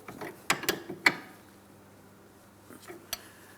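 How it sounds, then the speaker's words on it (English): A wrench tightening the jam nut on the outer tie rod end of a 2004-2008 Pontiac Grand Prix, a few sharp metallic clicks and clanks close by, then quiet with one more faint clink near the end. "Now I'm turning the jam nut counterclockwise up against my outer tie rod end. I'm using my wrench to make sure it's nice and tight."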